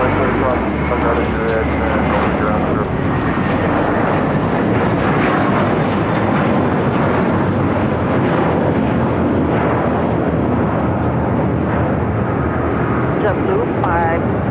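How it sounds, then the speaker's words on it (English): A JetBlue Airbus A321 takes off from runway 25 at LAX, a loud, steady engine roar holding across the whole stretch, with voices talking over it. "That JetBlue flight taking off on 25 at right."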